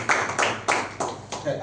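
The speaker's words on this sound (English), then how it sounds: "So please round of applause." At a club milestone meeting, a handful of people clap in five sharp, evenly spaced bursts, close and crisp, each clap standing out separately rather than merging into a roar.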